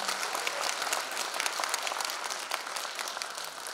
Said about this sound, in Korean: 고생해주신 박홍근 의원님께 여러분 다시 한번 격려의 박수 부탁드립니다.